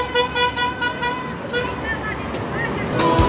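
Car horns honk from a street crowd amid traffic, several toots rising over a dense hubbub of voices and engine noise, with a louder burst near the end.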